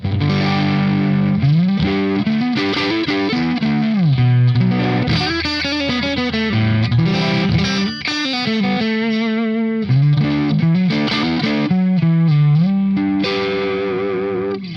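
An overdriven electric guitar through a 50-watt Marshall JTM valve amplifier plays a loud, crunchy riff with sliding chords and sustained notes, thick valve-amp distortion ringing throughout.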